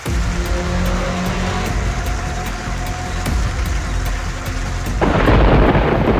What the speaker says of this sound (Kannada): ಗುಡುಗು ಸಹಿತ ಮಳೆ ಅಬ್ಬರಿಸಿದೆ